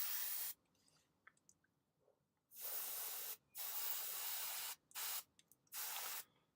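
An aerosol spray can hisses onto a Warmaster Reaver titan model in several loud, close bursts of about one second each, separated by short near-silent pauses with faint handling noises.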